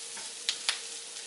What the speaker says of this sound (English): Let me just get this sauteed.